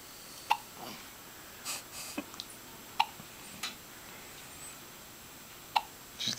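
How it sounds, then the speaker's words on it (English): A newborn girl, under seven hours old, hiccups repeatedly at irregular intervals, each hiccup a short sharp catch, close up over a soft hiss of room noise with faint breathing in between. "She's got some killer hiccups. Her first hiccups outside of the womb."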